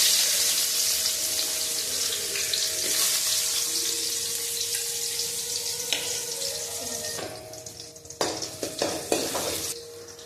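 Mustard seeds popping in hot oil hiss loudly before onion goes into the pan, the sizzle dropping and then giving way to stirring scrapes and clatter near the end, no voices.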